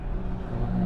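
A Volvo overtaking on the Nürburgring track, heard from inside another car as a steady low engine drone with a slight rise toward the end, close and fairly loud.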